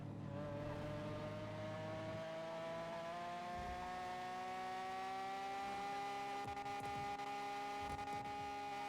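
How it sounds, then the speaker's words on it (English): A car in GTA V on a NoPixel roleplay server accelerating hard, a steady engine drone that climbs in pitch across several seconds, loud and continuous. "And we zoom. No one would ever expect this car to get to 190."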